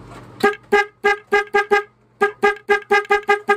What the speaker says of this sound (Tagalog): sound check ng horn na with relay mga bossing